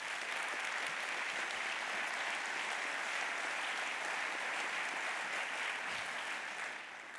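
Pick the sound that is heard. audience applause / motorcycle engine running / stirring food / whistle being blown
audience applause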